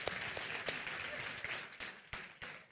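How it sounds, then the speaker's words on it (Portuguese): Crowd applause fills a church service, steady clapping throughout with a few sharper bursts as the congregation cheers on a group. "Pode dar uma salva de palmas para eles assim."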